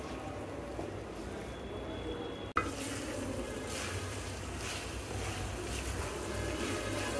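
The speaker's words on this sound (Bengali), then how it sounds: "ভালোভাবে এগুলাকে ভেজে নিব" Meat and chopped onions frying in a pan, a steady broadband sizzle with stirring scrapes, continuous and moderately loud, a sharp clack near the middle.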